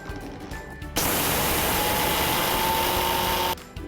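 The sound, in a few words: mixer grinder blending flax seeds into powder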